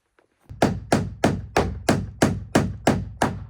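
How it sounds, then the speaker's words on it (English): A hammer driving nails into wooden boards on a tiny home build in Iceland, with eight evenly spaced, loud, close blows, each ringing briefly, after a quiet start and with no talking. "I'm gonna get back to nailing"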